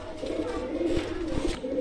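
Rampuri pigeons, including a Kalsira, coo in a low, steady throaty rumble from close by, a brief continuous stretch of soft, layered cooing.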